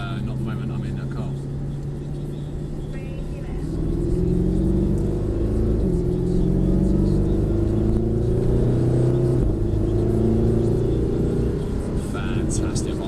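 Mercedes-Benz SLS AMG engine rumbling from inside the car, droning steadily and climbing in pitch through a few gear changes, with people talking over it.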